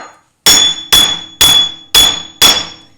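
Five loud, evenly spaced metallic hammer blows strike the inside of a stuck wheel hub on a 1999 Jeep WJ, each ringing clang decaying before the next, close and alone.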